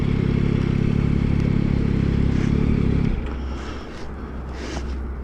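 Yamaha MT-09 SP naked motorcycle idling with a steady low engine rumble for about three seconds before the engine cuts, leaving quieter background clatter while parked at a show floor.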